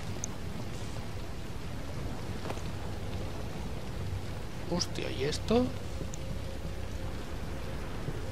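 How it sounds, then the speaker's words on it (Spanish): Steady rain starts falling in The Evil Within video game, a soft continuous hiss under someone speaking Spanish, with a few sharper game sounds near the middle. "pone a llover."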